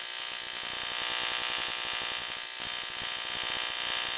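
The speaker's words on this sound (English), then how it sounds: "So it definitely generates a spark out to about half an inch." Spark plug tester firing repeatedly, a loud rapid buzzing crackle of sparks with a fast regular pulse, broken by a brief pause midway before resuming.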